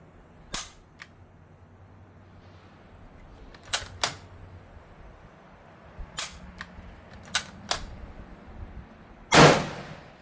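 A post-war Preduzece 44 Kar98K, a reworked German bolt-action rifle, fires one loud, sharp, close shot near the end, after several faint scattered clicks and taps against quiet background.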